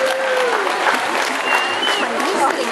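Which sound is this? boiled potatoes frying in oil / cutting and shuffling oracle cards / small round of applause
small round of applause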